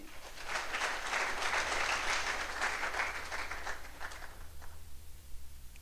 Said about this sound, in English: Please clap for them for me.